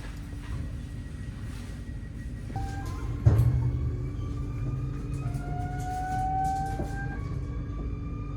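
Low rumble inside a moving train bound for Breda, Netherlands, with a steady mechanical drone, a sharp clunk midway, and faint rising whines from outside.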